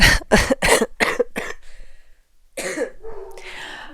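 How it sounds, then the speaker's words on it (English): A rapid string of harsh coughs close up, followed after a short pause by another coughing fit with a throaty rasp. "I'm probably also gonna cough several times"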